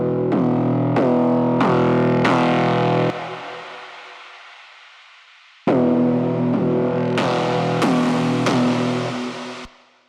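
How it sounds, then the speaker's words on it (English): A heavy synth bass plays repeated notes while a filter sweeps its tone, loud and upfront, with a fading tail midway before the pattern resumes. "There's a filter being automated over this bass."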